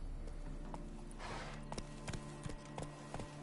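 Horse hooves clip-clop in a steady walking rhythm in The Witcher 3, a handful of distinct hoofbeats over a constant ambient background with a brief rustling swell partway through.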